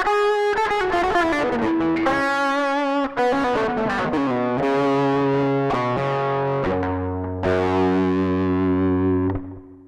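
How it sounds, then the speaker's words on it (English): An electric guitar played through a Zoom G1X Four with two drive stages, delay and reverb, picking a fluid, sustained, overdriven melodic line whose notes ring and overlap with echoing tails. "So this has just got a couple of drives, delay assigned to the expression pedal and reverb."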